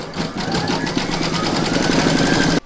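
An embroidery machine runs continuously and loudly, stitching round three of an in-the-hoop stacked Christmas tree with a fast, even, buzzing needle rhythm until it cuts off abruptly.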